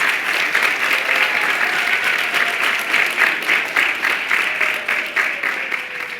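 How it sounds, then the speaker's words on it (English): Audience applause at the 2016 Kid Governor inauguration ceremony at Connecticut's Old State House, honoring the kid governor candidates; steady, dense clapping from a sizable crowd runs throughout without a break. "Give them a round of applause."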